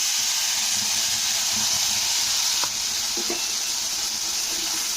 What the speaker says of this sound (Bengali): তেলটা যে আছে তার মধ্যে আমি দিয়ে দিচ্ছি এই বাটা সর্ষে বাটাটা